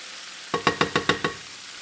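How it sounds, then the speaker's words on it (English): Garlic and green onions frying in oil, six quick sizzling bursts in a regular rhythm, like stirring in a hot pan, fairly close with no talk. "I want the garlic to start bubbling and sort of frying up."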